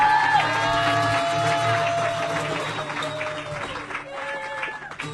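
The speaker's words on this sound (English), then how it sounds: "keep clapping your hands for Reagan and Watkins" A comedy show audience claps steadily, with scattered cheers, while sustained saxophone notes play over the applause.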